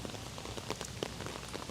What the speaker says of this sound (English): now I got caught up in this freaking rain, man